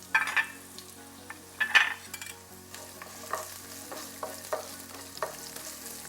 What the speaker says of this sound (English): I can hear the sizzling sound.